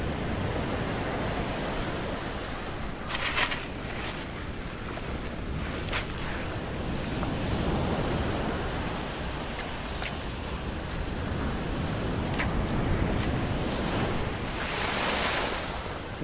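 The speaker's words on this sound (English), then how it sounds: "So we have waves and tide." Ocean waves break and wash continuously onto the beach at Doheny State Beach in Dana Point, California, on an incoming tide, with surges building in sets and gusts of wind buffeting the microphone throughout.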